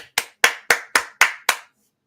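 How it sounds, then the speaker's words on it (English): Seven sharp hand claps land close to a microphone, loud and crisp with a quick decay, spaced roughly a quarter second apart before stopping into silence. "I wonder what clapping over a microphone sounds like."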